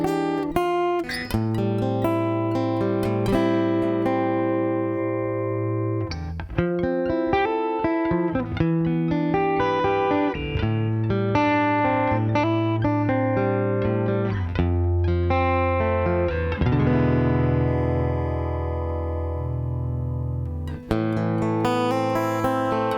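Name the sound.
Fender Acoustasonic guitar switching between clean and crunchy lo-fi tones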